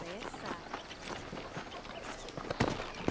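Horse hooves clip-clop in Red Dead Redemption, a quick, irregular run of hoofbeats at moderate loudness, with voices speaking over them.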